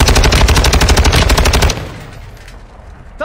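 Rapid automatic gunfire from a military video game, a loud sustained burst of evenly spaced shots lasting over a second and a half, then cutting off to a quieter tail with a brief sharp sound at the end.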